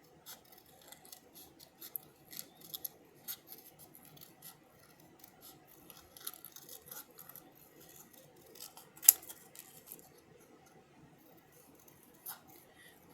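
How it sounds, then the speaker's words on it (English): Scissors snip and rustle through scrapbooking paper while fussy cutting small flower shapes, a quiet series of light irregular close clicks and crisp cuts. "So then I'm going to cut some, fussy cut some little flowers."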